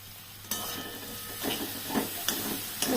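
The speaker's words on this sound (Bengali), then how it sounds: "পুরটাকে এবার একটু সুন্দর করে ভাজবো।" Stuffing for potol fries in a pan with a steady close sizzle and hiss, broken by a few sharp stirring scrapes, no voices.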